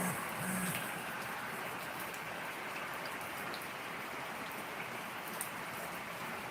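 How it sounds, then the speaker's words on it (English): Morning rain falling outdoors, a steady soft hiss of drops on surfaces that keeps going evenly throughout, fairly quiet, with no voices. "listen to the rain for a little while."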